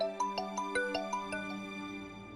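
A mobile phone rings with a bright, repeating melodic electronic tune, notes plucked in quick succession and then fading, heard clearly and alone at modest volume.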